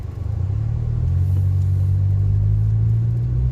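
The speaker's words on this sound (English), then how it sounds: "Look at these cars, man. They're speeding like crazy." A car speeds past on a city street in Oakland, giving a loud, close, continuous low engine rumble that swells in the first second and then holds steady.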